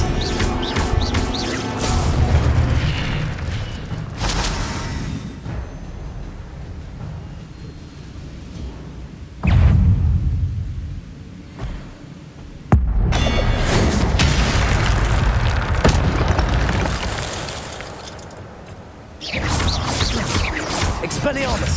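Expelliarmus spell combat in Hogwarts Legacy, dense booming blasts and crashes layered over a constant roaring wash, with abrupt loud bursts breaking in partway through and a voice talking over the action.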